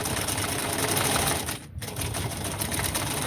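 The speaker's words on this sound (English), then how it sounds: "when you sew pieces together one after the other without cutting between them, it's called chain piecing" A sewing machine chain-pieces quilt pieces with close, fast, steady stitching chatter, briefly pausing for a moment before running on again, with no talking.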